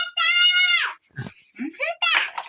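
A goat gives a loud, close bleat at the start, followed by brief fainter cries mixed with voices.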